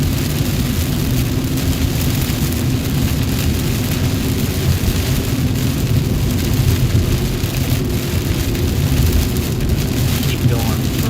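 Heavy rain pours in a thunderstorm over Dallas–Fort Worth in North Texas, a steady loud roar of rainfall and runoff across the whole span, with low rumbling that may be thunder and faint voices underneath.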